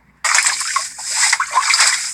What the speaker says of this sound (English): Treading through chest-deep water.